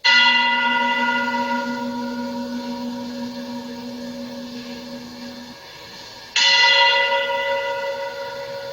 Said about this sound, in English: testing the frequency of the church bells chiming